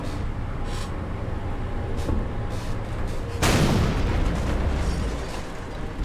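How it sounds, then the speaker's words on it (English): A bomb in the Metal Gear Solid VR missions mod for Half-Life 2 detonates with one sudden, loud blast midway that decays into a rumbling wash over a steady background of game noise. "Baltic bomb. Kaboom!"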